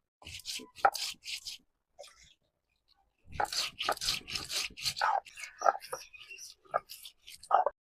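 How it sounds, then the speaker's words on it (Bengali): Cumin, coriander, cinnamon, garlic and onion are ground into a paste by hand, giving close, irregular crunching and scraping strokes in short bursts with brief pauses between them. "এবার মশলাগুলো সব ভালো করে বেটে নেব"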